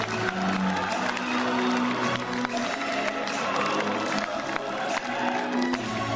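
A theatre audience at a Chinese New Year opera gala breaks into sustained applause and cheering, a dense continuous wash of clapping filling the hall.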